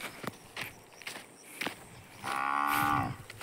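A cow tied up on a farm moos once, a loud, close, drawn-out low call near the end, after a few scattered thuds and rustles like hooves shifting.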